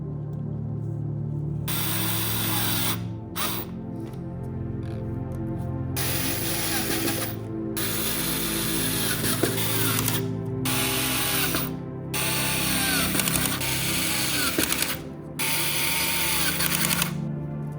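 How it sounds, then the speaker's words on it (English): Brackets screwed into a wooden base for a homemade air conditioner and freezer build, with steady mechanical ratcheting and whirring of a driver in several long bursts separated by brief pauses, close and fairly loud. "We screw the brackets to the wood."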